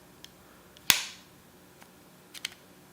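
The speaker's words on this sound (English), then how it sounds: "These are the real AirPods. Flip open. They have a different sound." The lid of a genuine AirPods Pro charging case snaps open with one sharp, close click followed by a brief ring, then a few faint small taps and clicks in otherwise quiet surroundings.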